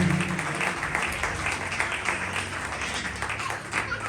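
Worshippers at a Christmas Day church service clap to welcome Brother Yasir, a soft, steady wash of applause from a congregation, fairly distant and even, with no voices on top.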